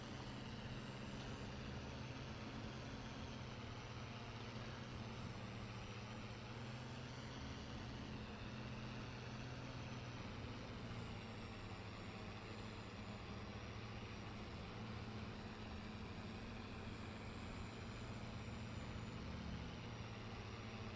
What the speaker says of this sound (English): Tractor's feeling the pull on this hill